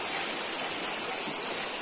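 Water rushes from a waterfall near a hill camping site at Kombirei Aimol Village, near Pallel. It is a steady, faint, hissing roar that stays even throughout, with no voices.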